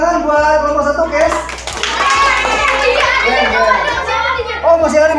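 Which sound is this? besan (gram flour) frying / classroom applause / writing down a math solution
classroom applause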